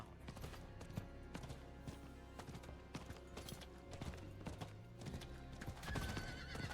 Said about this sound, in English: I love this horse. I'm so glad I bought it.